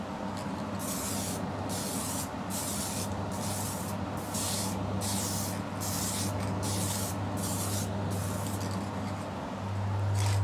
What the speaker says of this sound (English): fresh can of sealer, still doing mist coats.